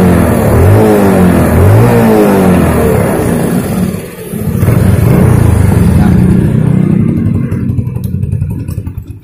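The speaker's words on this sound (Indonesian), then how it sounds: "Ini suaranya sih adem banget ya dari mesin. Nggak ada yang letek atau ngericik gitu" A Yamaha Jupiter Z motorcycle engine runs close up, revving in rising and falling sweeps, dipping briefly and then holding a loud, smooth idle-to-rev drone before easing off.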